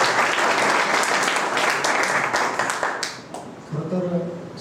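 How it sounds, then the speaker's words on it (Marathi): Loud, dense audience applause from a crowd at a live stage performance in Pune, sustained clapping that thins out toward the end as a voice begins speaking over it. "एकदा जोरदार टाळ्या झाल्या पाहिजे माझ्यासाठी."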